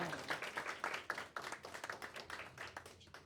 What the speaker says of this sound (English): One more round of applause for Dawn.